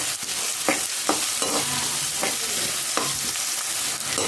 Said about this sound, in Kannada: ಇದ್ರ ಜೊತೆ ಮೆಣಸಿನ್ಕಾಯಿನ ಹಾಕಿ ಫ್ರೈ ಮಾಡ್ಕೊಳ್ಳೋಣ.